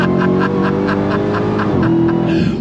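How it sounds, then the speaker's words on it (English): A 2018 Dodge Challenger Demon muscle car at full throttle, its engine roaring loud and close with a steady rising growl and a brief shift-like dip near the end. "Let's go on throttle in this Demon."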